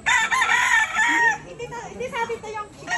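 Chickens and a rooster crowing at a farm, with loud clucking and crowing close by for the first second and a half, then fainter calls continuing in the background.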